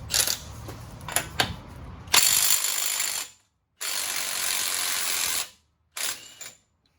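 A ratchet works at a rusted nut on the tie rod of a 2009 Chevy 1500 4x4 pickup, clicking in several sustained bursts separated by short pauses, close and fairly loud with no talking.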